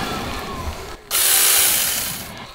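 A Tomyvic 6-inch mini chainsaw cuts wood at a campsite: a low hum drops out briefly, then the motor surges loud and bright into a steady cutting whine for over a second before easing off.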